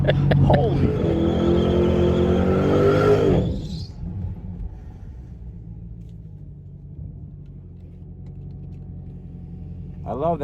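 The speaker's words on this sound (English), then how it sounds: "These cars do good burnouts." A 2020 Shelby GT500 or Dodge Hellcat Redeye finishes a burnout with a loud, close engine roar that cuts off abruptly, leaving a low rumble and faint background noise.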